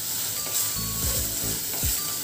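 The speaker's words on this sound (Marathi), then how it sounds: "तेलामध्ये घालून आपण परतून घेणार आहोत। गॅस आपल्याला मध्यम आचेवरती ठेवायचा आहे" Chicken sautéing in hot oil over a medium flame gives a steady, close sizzle with soft bursts of crackle and no voices.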